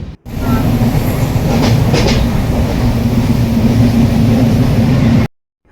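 A moving train carriage, boarded at a railway station, gives a loud steady rumble with a low droning hum and faint rattling from inside the coach, running continuously for about five seconds before cutting out.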